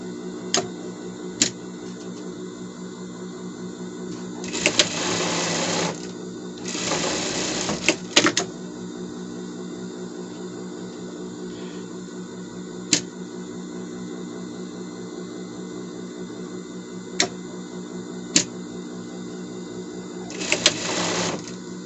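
A sewing machine joins seams on a cot bed protector, running in a few loud close bursts over a steady background hum, with scattered sharp clicks in between.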